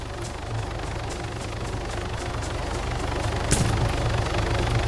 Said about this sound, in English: I heard a heli.